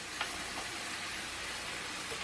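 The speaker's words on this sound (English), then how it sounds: "That is the sizzle you are looking for." Thick pork chops frying in olive oil in a pan, a steady close hiss and crackle that runs unbroken and fairly loud from start to finish with no voices.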